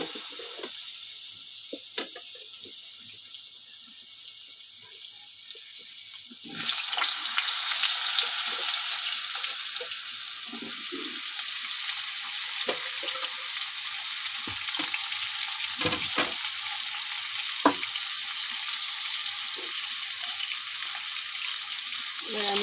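Diced potatoes and karkol are added to hot oil tempered with cumin seeds. The sizzle erupts suddenly and loudly, then continues as a steady frying hiss with occasional stirring knocks and scrapes.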